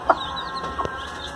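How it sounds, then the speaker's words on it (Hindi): Chicks and chickens on a farm give brief, high cheeps and clucks close by over a steady background murmur, with one sharp chirp near the start. "ये वो वाला चूजा है और बाकी सारे चूजा मैं ला के इनके साथ छोड़े"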